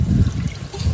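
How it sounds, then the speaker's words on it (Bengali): Water trickles and splashes briefly into a pan of bata fish curry with mustard and tamarind, a short soft pour close by. "জল দিলাম।"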